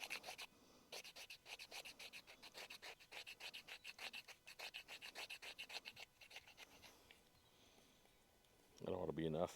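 Fatwood scraped repeatedly across a grater to make shavings, giving a fast, regular run of rasping strokes close up, quiet overall, with a brief louder sound near the end.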